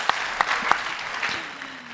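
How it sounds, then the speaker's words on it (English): A few scattered claps ring out, then a soft burst of applause from a small group fades away within two seconds, at a livestreamed Minecraft convention event. "let's give a final round of applause for our amazing guests"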